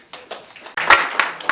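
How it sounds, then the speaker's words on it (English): A class of students claps for a classmate during a mathematics lesson, starting as scattered claps and swelling into a brief burst of close, brisk applause. "Please clap for her."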